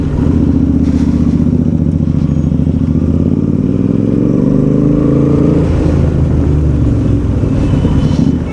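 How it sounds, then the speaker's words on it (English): A Royal Enfield GT motorcycle with a loud custom exhaust thumps nearby. Its deep, steady engine note holds throughout, with a pitch that rises and falls slightly as the rider revs, alone and with no talk. "This bike has a loud exhaust. I guess it's a Royal Enfield GT with a custom exhaust."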